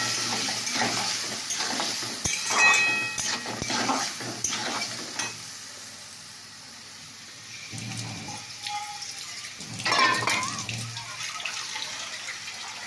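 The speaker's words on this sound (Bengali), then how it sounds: "তো এবার আমি এখানে রান্নাটা দিয়ে নাড়তে লাগবো।" A spoon scrapes and stirs through pointed gourd cooking with a little added water in a pot, giving bursts of wet clatter and sloshing between quieter bubbling pauses, heard up close.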